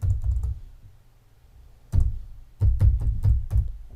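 Keys clatter on a computer keyboard as an answer is typed in, one burst of strokes, a pause, then a quicker run of close, crisp clicks.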